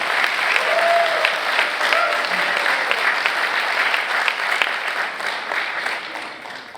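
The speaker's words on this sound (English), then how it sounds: "Please join me in thanking distinguished Toastmaster Ankur with a huge round of applause" Round of applause for a Toastmaster at a club meeting: a dense, even wash of many hands clapping, sustained and steady, slowly tapering near the end.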